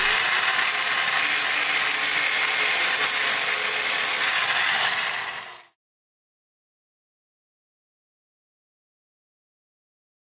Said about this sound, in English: An angle grinder was used to grind a steel anchor, sending controlled, high-velocity sparks towards the model